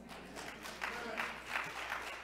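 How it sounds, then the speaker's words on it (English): A church congregation claps during a Sunday worship service, a steady wash of many hands through the whole stretch, moderately loud with slight swells. "that clapping needs some strength"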